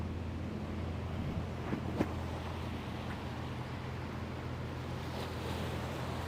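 Ocean surf at South Beach, Miami, a steady, faint wash of waves with wind rumble and no distinct breaks, heard from right at the water's edge.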